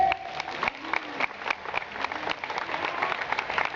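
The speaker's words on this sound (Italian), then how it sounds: "facciamogli un applauso forte!" A live audience claps for a friendly local herbalist shop owner at an open-air summer evening event in Novi Ligure, Italy, with dense, steady hand claps running throughout at a moderate level.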